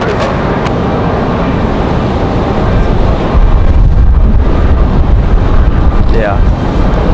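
Strong wind gusts buffet the microphone at Raleigh-Durham International Airport, a loud continuous broadband roar that swells in the middle, with a faint aircraft whine rising near the end.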